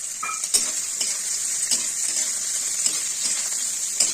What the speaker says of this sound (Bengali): এখন পেঁয়াজটা ছেড়ে দিলাম। এখন পেঁয়াজটাকে সুন্দর করে লাল লাল করে ভাজা হবে।